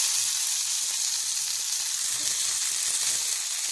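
Cheese sizzles on a hot, old baking pan, producing a loud, constant crackling hiss close up that continues throughout without any speech.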